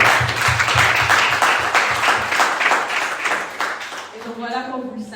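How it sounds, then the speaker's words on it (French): Church congregation applauding to welcome newcomers during a service, a burst of many hands clapping that fades out near the end, followed by a brief reverberant tone. "Nous pouvons quand même applaudir pour les recevoir."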